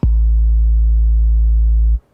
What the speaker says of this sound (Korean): 디스토션이랑 사인파에다 디스토션을 줘서 이렇게 만들었어요